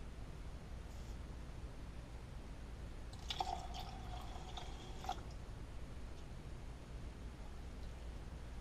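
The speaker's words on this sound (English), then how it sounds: "now you want to add your 3 cups of coffee," Plain black coffee pours into a wild bird seed mix in one short liquid trickle of about two seconds, heard quietly over a steady background hiss.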